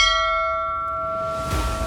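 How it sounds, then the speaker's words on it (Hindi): Temple bells at Pashupatinath in Nepal ring with clear sustained metallic tones that hang and decay, joined by a fresh strike near the end, with no voices present. "नेपाल के कड़कड़ में गूंजती इस मंदिर की घंटियां"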